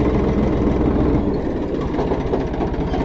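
A Massey Ferguson 1035 DI 35 hp tractor engine runs with a 6 foot Shaktiman rotavator attached, giving a loud, steady low diesel rumble with a throbbing pulse, heard close and without talk.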